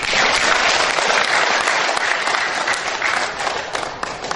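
A seminar audience breaks into loud, continuous clapping, a dense wash of hands that stays strong throughout and eases slightly toward the end.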